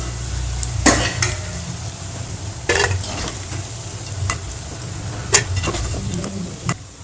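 Eggplant pakoda frying in oil, a steady bubbling sizzle broken by several sharp clinks and scrapes of a utensil against the pan, close and fairly loud.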